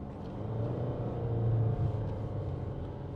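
A 2013 Toyota RAV4 2.2 D-CAT with automatic gearbox, shifted manually down a gear, its diesel engine revs up in a low rising drone that peaks midway and then settles, heard from inside the car with no talking.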